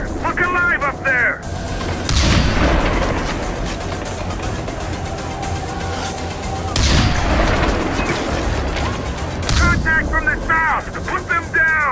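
Gunfire in the shooter game Far Cry 4: loud bursts of rapid shots and booming blasts come in waves, with short quieter gaps where voices can be heard.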